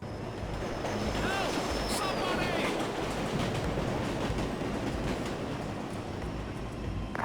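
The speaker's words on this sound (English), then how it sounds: "When you make it to the subway platform and a train passes, this is what he says." Subway train passing a platform in a tactical shooter video game, a loud sustained rumbling roar with rattling and metallic screeches early on, close and filling the space, with a voice heard briefly near the start.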